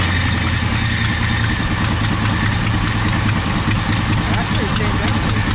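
Engine idling steadily after an Autolite 4300 carburetor rebuild, a constant low rumble running loud and close throughout, with faint talk in the background.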